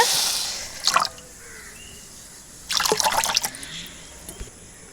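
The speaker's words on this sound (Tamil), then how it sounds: "எவ்வளோ சக்கரை எடுத்தோமோ அதில் வந்து ரெண்டு மடங்கு நம்ம தண்ணி ஊற்றிக்கலாங்க" Water splashes and trickles into a pan of sugar for gulab jamun syrup in two short pours, close by, with a quiet hiss between.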